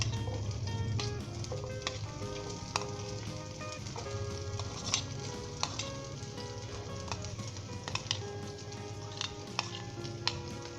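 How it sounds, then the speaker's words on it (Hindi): Ginger and onion fry steadily in hot oil, a dense continuous sizzle with crackles and occasional stirring clicks, close and alone without voices. "दोस्तों हम इसे लाइट गोल्डन ब्राउन तक इससे फ्राई करेंगे"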